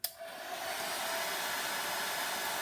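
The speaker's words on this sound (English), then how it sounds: "move my gold leaf out of the way with my blow dryer" A handheld blow dryer blasts steadily at close range to push loose gold leaf aside during gilding, a loud continuous broadband whoosh from start to finish with no voices.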